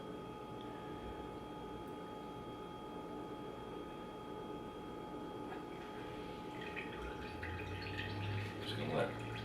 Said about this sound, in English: Just gonna let all the juices drain out of it.